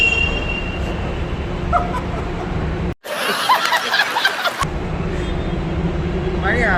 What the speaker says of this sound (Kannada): ನಾವೀಗ ಮೆಟ್ರೋ ಸ್ಟೇಷನ್ ಹತ್ರ ಬಂದ್ವಿ